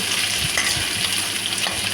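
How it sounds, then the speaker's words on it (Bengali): Chicken balls fry in hot oil in a wok while being turned for a chili chicken dish, giving a steady, dense sizzle with faint scraping and stirring touches throughout. "বাদ বাকি চিকেনগুলোও দিয়ে দিয়েছি কড়াইতে দিয়ে এবার উল্টে নিচ্ছি"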